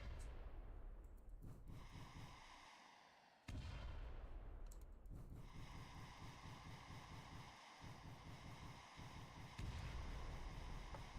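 Missiles firing in a gamejam video game built around trees: dense, sustained roaring blasts and whooshing bursts fill the whole stretch, with a brief dip before a fresh loud burst, no talk over it.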